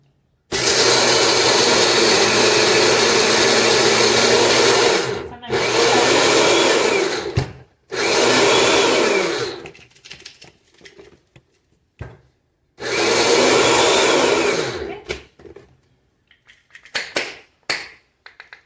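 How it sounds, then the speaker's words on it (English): A Goelunmy mini food processor grinds walnuts in loud, sustained motor bursts, several seconds each, separated by brief pauses, then ends in short pulses with rattling nut pieces inside. "I'm going to start out with the small mini processor, which has some walnuts in it."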